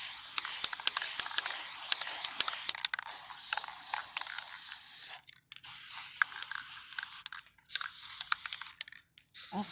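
Hissing bursts of spray paint as white paint is applied to a tray, close and steady, broken by several short pauses with faint clicks from the nozzle.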